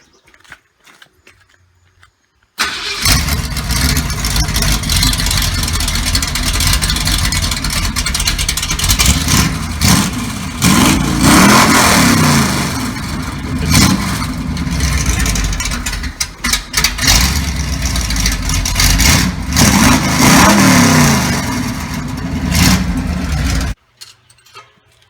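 A 1979 Ford F150 with a 351M V8 running a straight pipe exhaust, starting up and idling loud and close with repeated revs for about twenty seconds before cutting off.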